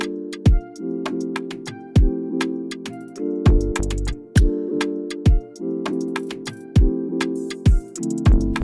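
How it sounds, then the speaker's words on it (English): Dream Synth Magic Flute synth panned left in a chill Afrobeat production: a breathy flute-like tone plays a looping melodic phrase over crisp percussive hits and a deep thumping kick, clear and loud with no voices. "And this one is from the Dream Synth Magic Flute."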